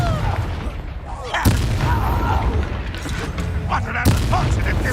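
Confringo fire spell cast in Hogwarts Legacy, two sharp booming blasts over a loud, dense bed of game combat noise and rumble, with voices in the mix.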